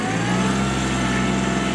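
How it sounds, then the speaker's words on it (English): Diesel engine of a 2001 Kubota B7500 compact tractor with belly mower, running steadily with a close, continuous low rumble and even chug throughout. "So we're going to fire this tractor up"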